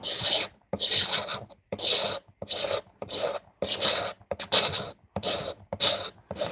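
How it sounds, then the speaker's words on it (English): Knife blade scraping paint off a surface, used like a card scraper: a series of close, harsh rasping strokes, each separated by a brief pause, in a regular rhythm. "So I'm just using my knife as a scraping card, just to take this paint off."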